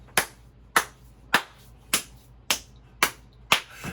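Seven sharp, evenly spaced hand claps, about one every 0.6 seconds, loud and dry against a faint low hum, with no talking.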